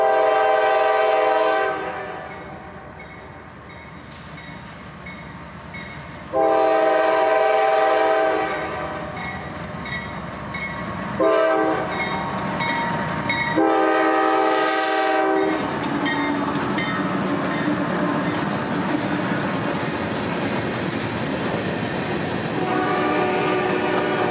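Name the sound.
CSX freight train with two locomotives passing, horn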